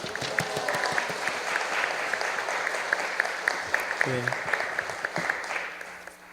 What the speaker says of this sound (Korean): 우리 박수로 할렐루야 하면서 환영해 주시길 바랍니다